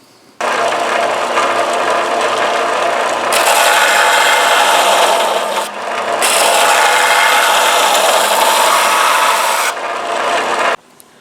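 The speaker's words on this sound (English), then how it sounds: "only need to just run this on the belt sander and smooth it out perfectly" A belt sander grinds steadily across a full-size steel sword blade, a loud, continuous abrasive rasp in long passes with brief pauses between them.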